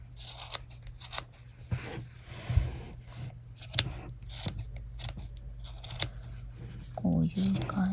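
Scissors snip repeatedly at the protruding yarn of a round pompom, giving sharp close crisp cuts in an uneven rhythm, with a voice talking in between.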